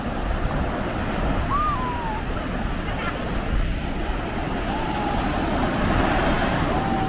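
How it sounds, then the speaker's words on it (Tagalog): Strong ocean waves break on a beach in Korea, a constant loud rushing wash of surf mixed with wind noise on the microphone and faint distant sounds. "Lakas-lakas ng alon eh."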